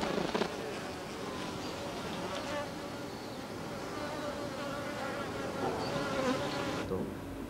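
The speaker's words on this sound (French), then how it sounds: "quel type d'information les abeilles japonaises se transmettent-elles en faisant vibrer leurs ailes?" Japanese honeybees vibrate their wings inside the hive, giving a dense, continuous buzzing hum that holds steady throughout with small rises and a few faint clicks.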